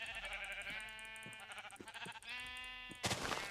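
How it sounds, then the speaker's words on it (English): Sheep in the Minecraft video game bleat in several short, wavering calls, close and clear, followed by a sudden burst of noise at the end, with no talking. "Yeah, tons of sheep."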